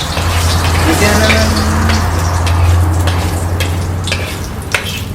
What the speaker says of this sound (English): He burns garlic in his oil before.